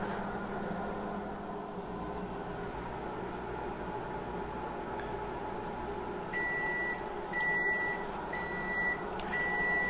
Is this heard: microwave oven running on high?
yes